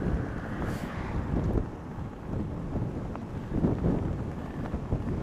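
Wind gusting around a cyclist on a ride, a steady low rumble of buffeting air against the microphone that swells and eases in uneven gusts, with no voices.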